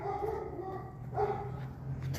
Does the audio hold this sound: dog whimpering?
yes